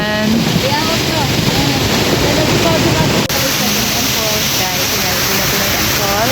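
Tinuy-an Falls gives a constant broad roar of falling water, loud and close, with voices talking over it and wind buffeting the microphone.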